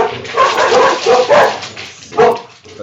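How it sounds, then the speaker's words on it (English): Dogs barking indoors at home, loud and close, a rapid run of several barks and yips with a short pause before a final bark. "you'll have to excuse my dogs if they bark in the background"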